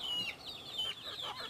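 Native chickens feeding on cabbage give off soft, repeated clucks and a few higher calls close by, with no talk.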